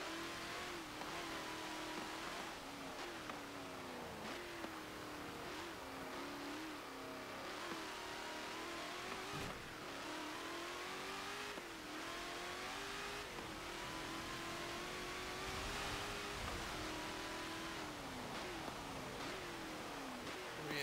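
A 2018 Dodge Demon in Forza Motorsport 7 revs and accelerates continuously, its engine note climbing and dropping through repeated gear changes over a steady racing drone, with no voices.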